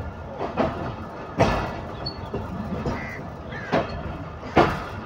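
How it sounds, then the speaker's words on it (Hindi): A container train rolls past near Prem Nagar railway station with a steady low rumble, broken by a few louder clanks and thumps of wheels over rail joints, heard from nearby without talk. "और सामने एक अदद मौजूद है, कंटेनर ट्रेन जो कि जाएगी प्रेम नगर रेलवे स्टेशन"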